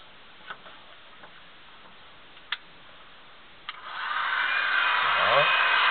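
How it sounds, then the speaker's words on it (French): A heat gun warms a plexiglass sheet for bending. A few faint ticks sound over quiet room tone, then the gun switches on partway through with a close, steady blowing hiss that continues to the end. "Donc ici, en chauffant il va rester là. Votre décapeur thermique."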